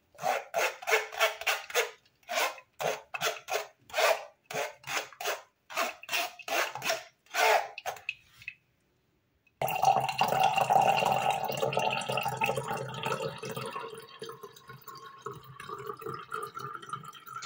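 A series of short, rhythmic scraping strokes stops, and after a brief silence juice is poured in a steady, continuous stream that runs on for several seconds, close by, with no talking.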